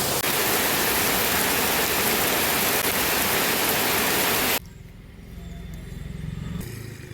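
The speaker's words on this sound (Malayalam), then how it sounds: "ഇവിടെ മഴ പെയ്യുന്നു" Heavy rain pours steadily for about four and a half seconds as a loud, dense hiss, then cuts abruptly to a much quieter background with faint scattered sounds.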